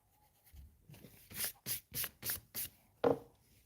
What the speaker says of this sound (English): let's erase the line that we drew.